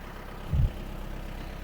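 A heavily worn car engine idles in a repair shop, giving a steady low rumble with one brief louder surge midway and no talking.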